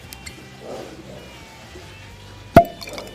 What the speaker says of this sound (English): That's probably the best cork pop I've ever had, except maybe on champagne.